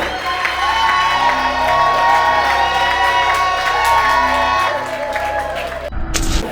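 A crowd at an evening gathering honoring Madame Kamerhe Amida cheers, whoops and claps loudly and steadily over tonal music, the noise holding for about six seconds before breaking off.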